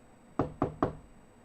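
Three sharp knocks on a door in quick, even succession, close and clear against a quiet background with no talk.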